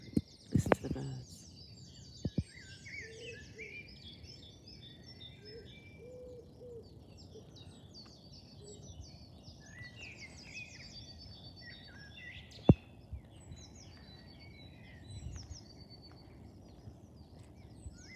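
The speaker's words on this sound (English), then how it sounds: "Listen to the birds" Birds sing in a countryside garden beside trees and woods on an early summer day, with bright chirps, trills and soft dove-like coos at a moderate distance, plus a few faint knocks and no talk.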